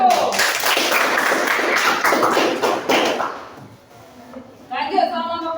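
Hands clap in a dense, lively burst of many overlapping claps for about three seconds in a classroom-like setting, fading out before a voice starts talking.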